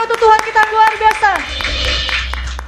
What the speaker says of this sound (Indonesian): Berikan tepuk tangan terbaik untuk Tuhan kita yang luar biasa.